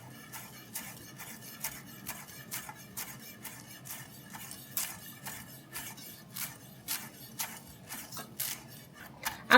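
A chef's knife slices parsley on a board with rapid, steady rhythmic taps, quiet and close, over a faint background hum and no talking.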